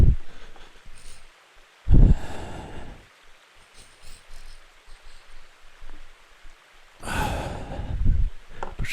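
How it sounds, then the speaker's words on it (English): Heavy breaths during handstand practice against a wall: two loud, close exhalations, one near two seconds in and a longer one near seven seconds, separated by quieter, softer breathing with no talk. "And breathing."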